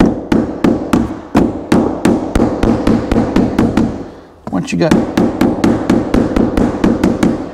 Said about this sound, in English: And grab my hammer.